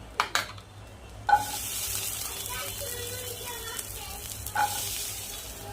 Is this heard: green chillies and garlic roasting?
yes